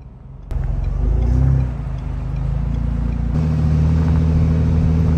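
A truck towing a big trailer pulls up to a ranch at night, its engine a loud, steady near rumble that swells briefly as it revs and then holds a continuous drone, with no talking.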